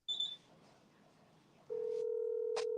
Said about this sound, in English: That's the old school voicemail,